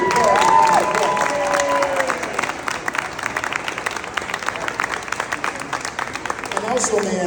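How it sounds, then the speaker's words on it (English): Audience at a seniors' celebration event in Elmwood Park giving a warm round of applause, sustained clapping with some cheering, a voice speaking over the start and end. "So let's all give him a very, very, very warm round of applause."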